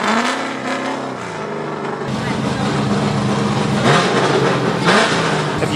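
Loud aftermarket car exhaust roaring and revving at a Formula Drift event, dense and continuous across the clip, surging near the end amid crowd noise.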